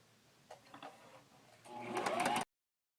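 A home sewing machine runs a straight stitch on a picnic blanket, starting with a few faint taps and then a quick, rhythmic whirring run that stops abruptly.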